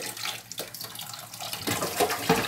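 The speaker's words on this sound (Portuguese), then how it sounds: "Bota a panela embaixo, é pra você ver se a água tá saindo branquinha." Tap water runs from a faucet into a pan while making savory snack fillings in a home kitchen, a steady splashing flow with louder, brighter spurts toward the end, close and alone.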